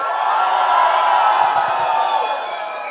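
Guests at a wedding reception cheer and whoop together in a sustained, loud crowd roar that fades slightly at the end.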